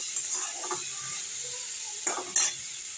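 Onion, tomato and garlic frying in a pan make a soft, steady sizzle, with a couple of clear utensil clinks toward the end.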